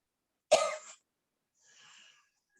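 A single sharp cough rings out close by, followed after a pause by a softer breathy exhale, with silence around them.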